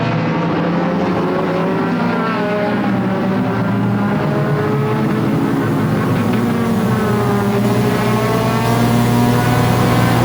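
Race cars roar steadily through the turns at Flamboro Speedway during the Halloween Enduro 200, a dense, continuous blend of engines at full throttle with no voices.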